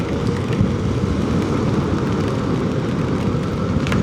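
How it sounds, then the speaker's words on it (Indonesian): Heavy rain on a motorcycle ride up a steep climb near Dieng, Indonesia: a steady, dense roar of rain and wind noise with engine rumble underneath, loud and unbroken throughout. "Kayaknya udah mulai hujan gede gengs."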